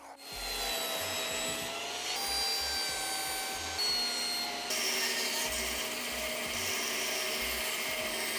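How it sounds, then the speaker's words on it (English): Router fitted with a pattern bit cutting a wooden drawer pull, giving a continuous loud high-pitched whine and rasp of wood being cut that holds steady the whole time, with the tone shifting slightly partway through. "I'm going to route out the main oval on the back with a pattern bit"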